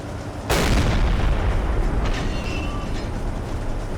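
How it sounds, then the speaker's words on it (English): A heavy boom of warship gunfire aimed at a U-boat in a naval submarine video game, one sharp blast followed by a long rumbling roar and faint later thuds. "They are shooting at us still."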